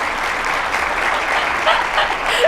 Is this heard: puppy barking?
no